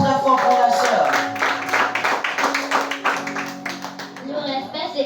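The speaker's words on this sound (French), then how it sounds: "acclamons très fort pour la soeur" A Sunday school group applauds a sister with a burst of close, fast clapping from many hands, mixed with voices and a sustained musical tone, tapering off near the end.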